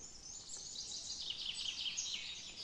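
Birdsong in early morning around a hammock campsite, high thin chirps and warbles drifting in from a distance, faint and continuous, with no voices.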